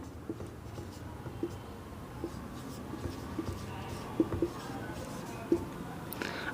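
A teacher writes on a board with light, scratchy strokes and soft taps scattered under a quiet, steady background.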